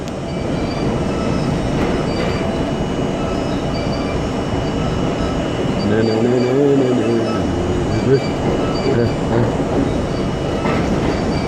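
Loud rumbling NYC subway train, a Budd R-32, running on the tracks, with metallic wheel squeal rising and falling midway as it slows.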